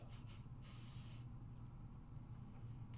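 Pixie spray adhesive hisses from an aerosol can in short bursts, a few quick sprays then one longer one, close and fairly quiet over a low background hum.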